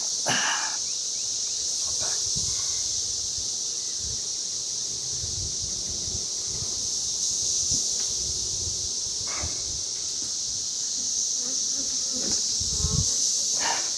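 A honeybee colony buzzing during an apiary hive inspection, a dense continuous hum with occasional rustles and thumps from handling the frames.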